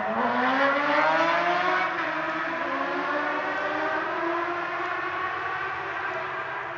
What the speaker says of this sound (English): They just didn't like that motorcycle.